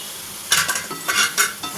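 Carrots cooking in a pan are stirred with a utensil, giving several close scraping strokes with clinks over a low background sizzle.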